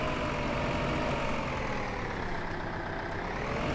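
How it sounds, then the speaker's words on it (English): A tractor engine idles in the Farming Simulator 2015 video game, a steady, low, rumbling drone that holds evenly throughout with no talk over it. "There's the tractor."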